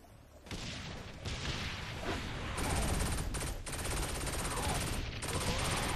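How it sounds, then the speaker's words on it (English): Shotgun fire in the video game Saints Row 4, a loud, dense burst of blasts running almost continuously through six seconds of chaotic combat, with a few brief dips between volleys. "I'm gonna use the shotgun."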